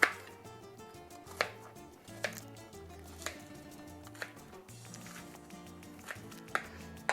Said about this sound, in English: just chop this up a little bit more